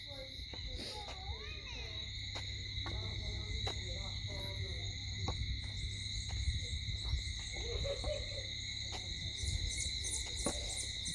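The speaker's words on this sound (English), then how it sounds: "Surprised how many insects." Insects chirp at night in a dense, steady drone of high, continuous trilling that fills the whole stretch, with an owl-like hoot and faint distant voices drifting underneath.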